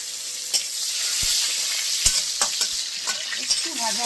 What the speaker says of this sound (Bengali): না দেওয়ার মতো পেঁয়াজ একটুখানি ভাজতে দিলাম এর মধ্যে